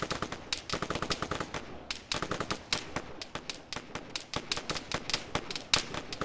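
Sustained automatic gunfire from AI-controlled units in the military shooter Arma 3, rapid bursts of sharp cracks repeating steadily at moderate distance with no talking.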